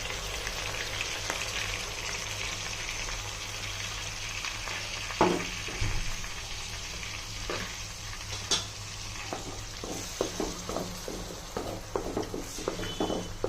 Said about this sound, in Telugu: బాగా బ్రౌన్ కలర్ వచ్చే వరకు సిమ్లో పెట్టుకుని ఫ్రై చేసుకోవాలి